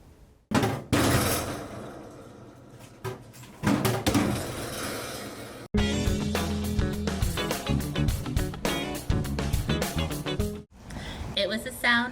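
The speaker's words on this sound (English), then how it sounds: "It was the sound of books being returned to the book drop." Books dropped one after another into a library book drop, a series of close, heavy thumps and clatters, some in quick bursts, with brief pauses between.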